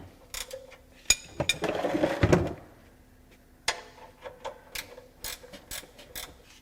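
A wrench works under a 1989 Trans Am GTA during an oil drain, giving sharp metallic clicks and a brief burst of rapid ratcheting, then scattered clanks and taps, close by and with no voices.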